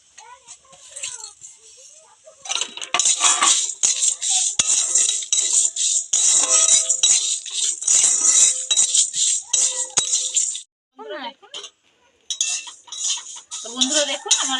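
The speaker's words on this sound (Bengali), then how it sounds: "শুকনো খোলায় সমস্ত মশলাগুলো ভেজে নিচ্ছি।" Dried red chillies and whole spices dry-roasting in a pan for chilli pickle, with busy close rattling and scraping of a spatula stirring the dry spices against the metal, while someone talks in short bursts.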